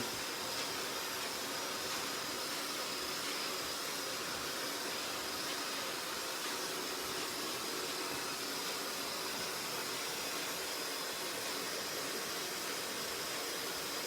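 A blow dryer drying hair during a bob haircut, a loud, steady, unbroken whooshing roar held close for the whole stretch with no talk.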